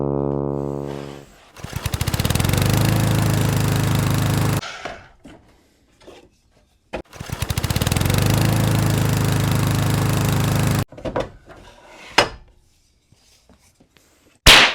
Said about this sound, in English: So let's go to the miter saw and cut this down.